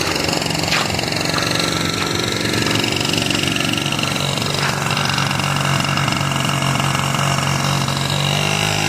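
A motorcycle engine, long unused, runs steadily and loud throughout outdoors, a constant rumbling drone with no pauses.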